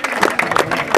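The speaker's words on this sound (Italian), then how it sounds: "Bene, un altro applauso a Stefano" Audience at a match fishing competition applauding an angler, a brief burst of clapping from a crowd heard fairly close, with a voice mixed in over it.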